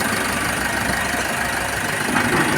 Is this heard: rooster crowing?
no